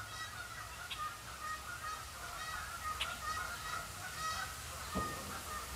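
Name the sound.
geese honking on a cold fall day in Michigan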